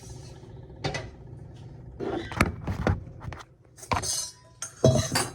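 A metal spoon picked up in a kitchen, with scattered clinks and clatters of utensils and cookware arriving in irregular bursts between quieter pauses.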